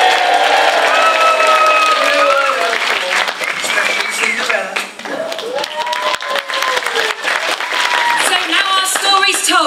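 Pantomime audience at a Lyme Regis Pantomime Society production of Cinderella cheering and applauding loudly for the character Buttons, sustained crowd clapping with whoops and shouts throughout.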